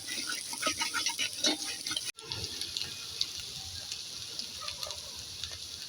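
A soft, continuous sizzle of coriander frying in an oil tempering for Kolhapuri mutton, with a brief cut partway through and occasional light clicks of stirring.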